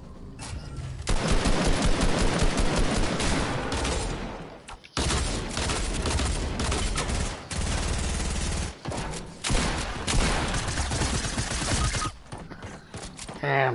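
Rapid video game gunfire rattles in long automatic bursts, loud and close, broken by a sudden cut and several brief gaps before the firing resumes and carries on to the end.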